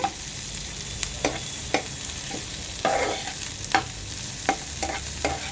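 Ginger garlic paste sizzles steadily in a pan while a spoon scrapes and stirs it in sharp, repeated knocks. The sound is close and fairly quiet, with no talking.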